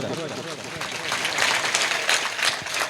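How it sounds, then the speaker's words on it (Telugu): Applause from a church congregation at a thanksgiving mass rises into a full, fairly loud burst of clapping from many people, with someone speaking over it at the beginning. "ఇంకొకసారి మీరందరూ ఒకసారి చప్పట్లు కొట్టండి"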